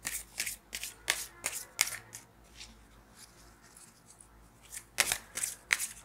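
Tarot cards are shuffled and handled close by, making crisp papery riffles and flicks in quick bursts. A quieter stretch of soft card rubbing follows before another cluster of sharp shuffling snaps.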